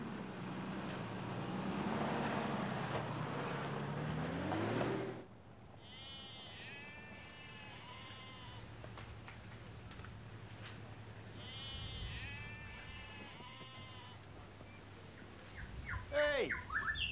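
Sheep, around 4,000 wethers penned in stock yards, bleating repeatedly at moderate distance with birds chirping over a steady outdoor background.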